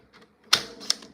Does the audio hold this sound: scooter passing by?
no